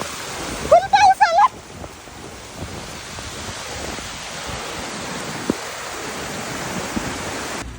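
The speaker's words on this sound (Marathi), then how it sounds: "लास्टला जोरात पाऊस यायला लागला" Heavy monsoon rain pours outdoors in a dense, steady hiss that lasts throughout, after a brief high wavering call at the start.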